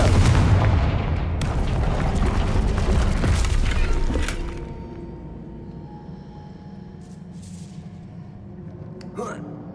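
A Confringo blasting curse explodes in Hogwarts Legacy, a loud booming blast with crackling debris that rumbles for several seconds and then fades into quieter ambience, with a brief sharp sound near the end.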